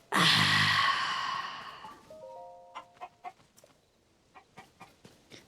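A chicken in Zelda: Tears of the Kingdom lets out a loud drawn-out squawk, then a run of quieter, evenly spaced clucks close by, with no voices.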